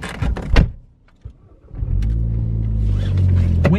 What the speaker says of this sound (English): Windows open, please.